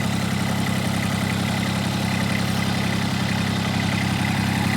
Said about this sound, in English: That's the sound of a diesel engine.